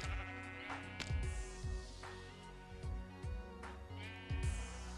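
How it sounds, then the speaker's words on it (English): Sheep in the video game Minecraft bleat several times in quick succession, their wavering calls clear and close, with no talk over them. "Fuck you, sheep."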